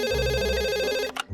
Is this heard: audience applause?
no